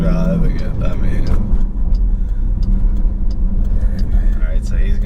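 A 1000hp Jeep Trackhawk engine rumbling heavily from inside the cabin while riding, a loud steady low drone throughout, with a voice speaking over it.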